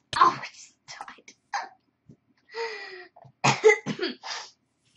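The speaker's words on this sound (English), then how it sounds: "Coughing so much." Someone coughs several times in short, harsh bursts with brief pauses between them, close and fairly loud, with a breathy vocal sound in the middle.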